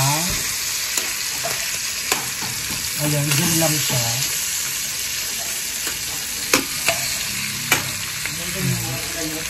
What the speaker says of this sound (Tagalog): Ipiprito natin siya ng very light.